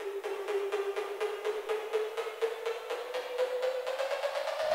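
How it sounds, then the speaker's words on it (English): Electronic percussion sample in a dance track that rises steadily in pitch, a rapid repeating ticking pulse sliding upward over several seconds, moderately loud and alone. "I ended up adding this percussion that pitches up."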